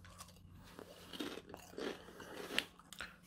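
Crisp, brittle crunching from bitten smoky bacon flavoured Japanese potato crisps, several irregular chews and snaps close up over a quiet room, with no talking.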